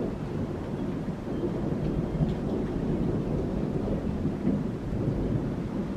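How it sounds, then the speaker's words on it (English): Long, deep thunder rumbles continuously, swelling and fading over several seconds, with rain hissing softly underneath and no voices. "That's long thunder"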